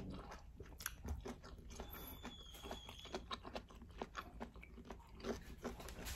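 Crunchy cabbage roll is chewed close up, a run of soft, irregular crisp bites and wet mastication at a very low level, with no talking.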